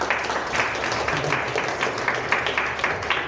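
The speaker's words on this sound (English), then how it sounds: "One more round of applause for Brooklyn." Audience at an open-source software meetup in Singapore gives a speaker a round of applause, many hands clapping evenly and steadily at moderate loudness.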